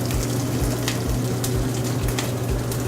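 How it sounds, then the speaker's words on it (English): Bacon sizzling in a preheated, lightly oiled pan: a steady crackling fry with rhythmic low thumps, close and moderately loud, no talking. "I got it preheated to a light haze, a little bit of oil. Now I'm gonna throw in my bacon."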